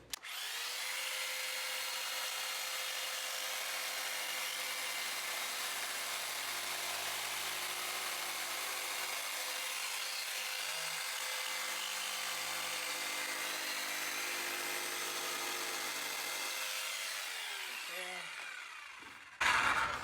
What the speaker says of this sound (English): So I use the metal attachment here on the jigsaw.